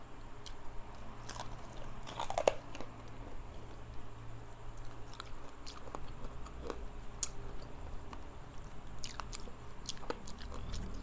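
Someone bites and chews fried chicken, with sporadic soft crunches and chewing clicks over a steady low background hum, close to the mic and with no talking.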